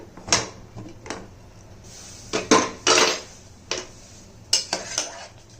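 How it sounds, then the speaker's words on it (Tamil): Pressure cooker having its weight lifted off and lid opened, a series of sharp metallic clanks, clicks and scrapes spaced irregularly, close and fairly loud, no talking. "இப்போ இந்த குக்கரை எடுத்துகிட்டு பார்ப்போம் வெயிட் எடுத்துட்டு"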